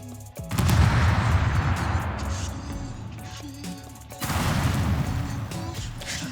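A huge explosive detonation in the game Astroneer: an abrupt loud blast opens a sustained rumbling roar of crackling debris, which fades slightly and then swells again with a second heavy burst near the end.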